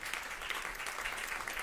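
Steady, fairly soft applause from an audience at a talk on food and regenerative farming, continuous dense clapping with no voices standing out.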